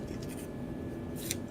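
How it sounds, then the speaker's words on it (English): A deck of playing cards being shuffled by hand, soft papery riffling and rubbing in short bursts, quiet and close with no talking. "tell me when to stop shuffling"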